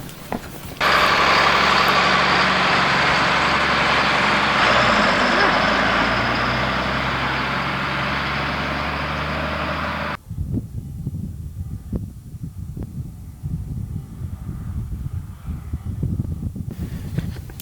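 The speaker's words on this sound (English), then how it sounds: "Here I am pulling 32 feet of John Deere 1000 series field cultivator with Degelman mounted harrows." John Deere tractor pulling a 32-foot John Deere 1000 series field cultivator with Degelman mounted harrows during spring seeding in Saskatchewan, a steady loud engine drone for about ten seconds that cuts off abruptly, leaving wind buffeting and faint rustling.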